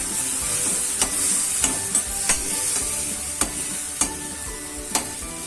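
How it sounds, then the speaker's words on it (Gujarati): Gram flour being stirred into a carrot and chili sambharo in a pan: a steady hissing sizzle with regular, crisp spoon taps against the pan about every half second. "આ સ્ટેપ ઉપર આપણે ચણા લોટ ઉમેરી દેવાનો છે આપણે આને શેકવાની કોઈ જરૂર નહીં પડે"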